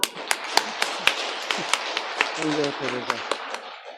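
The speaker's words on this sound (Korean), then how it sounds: "와, 박수." A small audience at a senior academy community special Mass gives brief, scattered applause, with sharp individual claps spaced out over a few seconds while a voice briefly talks underneath.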